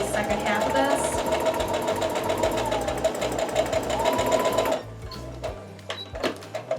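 A sewing machine runs steadily stitching a quilt block, a loud close whirring hum with rapid even needle beats that slows and stops near the end, leaving faint handling noises.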